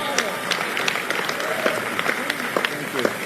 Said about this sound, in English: Can we have a round of applause for Chuck Schumer?